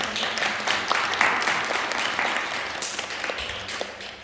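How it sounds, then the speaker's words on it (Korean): Soft, steady applause from a Korean church congregation during a Sunday worship service, a sustained patter of many hands clapping that fades gradually over a few seconds. "우리 박수로 좀 사랑해 주시면"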